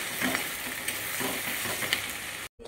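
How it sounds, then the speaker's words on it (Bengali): Chopped onions with ginger garlic paste sizzle in hot oil while being stirred for an egg curry: constant close frying crackle with soft spoon scrapes, cut off abruptly near the end. "এখন আমি পেঁয়াজের ভিতরে আদা রসুন বাটা দিয়ে দেব। দিয়ে ভালোভাবে পেঁয়াজের সঙ্গে নাড়াচাড়া করে নেব।"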